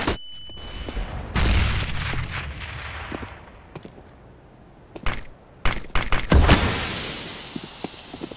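A flashbang grenade goes off during a ranked match in a first-person shooter: loud, sharp broadband blasts among scattered gunfire-like cracks, with a high ringing tone lingering after the final burst.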